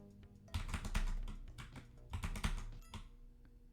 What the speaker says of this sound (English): So I'm just using the keyboard.